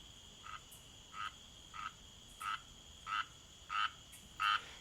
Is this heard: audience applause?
no